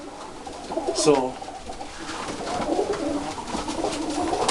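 An older stock pigeon cock bird coos in a loft, a short rolling coo close by, followed by someone talking over a soft bed of further cooing.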